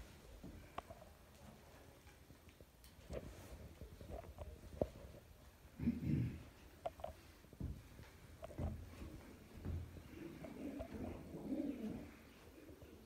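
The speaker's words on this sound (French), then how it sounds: "Il y a encore des pigeons?" Pigeons coo inside a dusty church bell tower, low soft calls coming in several separate bursts close by, with scattered knocks and rustles between them.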